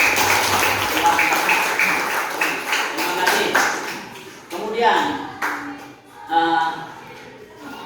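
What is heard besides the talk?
class clapping hands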